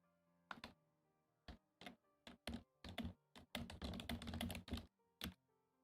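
Bursts of typing on a computer keyboard during a drawing session, close and clear, with short clusters of keystrokes separated by pauses and a denser run near the end.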